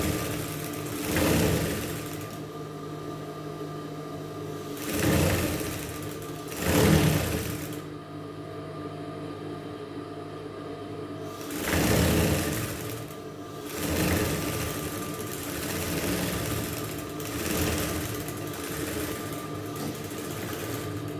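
A sewing machine stitches a petticoat seam in steady whirring bursts that rise and fall across several runs, close and moderately loud, with short pauses between runs and no talking.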